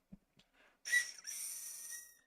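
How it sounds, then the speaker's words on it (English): A small pencil-topper whistle, blown close up, gives a thin breathy tone that wavers, then holds as a weak, airy pitch after a few soft taps and breaths. "Man, that whistle sucks."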